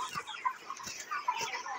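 Broiler chickens on a farm, about 36 days old, cluck close by in short repeated bursts, a busy overlapping flock sound with no voices.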